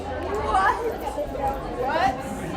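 Crowd chatter in a merch line after a concert: many overlapping voices talk nearby in a steady, busy murmur.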